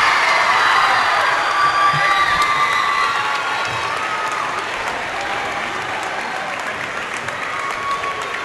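A large crowd cheers and applauds loudly and continuously at the 2012 Maryland Class 2A girls volleyball state championship between Williamsport and Calvert, with scattered whoops and shouts.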